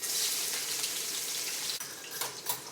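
Onion whites hit a hot pan for shrimp fried rice, giving a loud, close sizzle that hisses continuously, then thins out with a few sharper crackles near the end.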